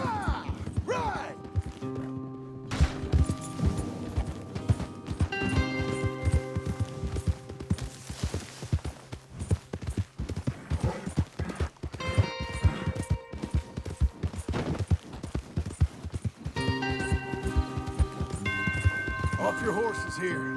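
Horse hooves clip-clop in Red Dead Redemption 2 as riders move along together, a steady patter mixed with game music and spoken dialogue throughout.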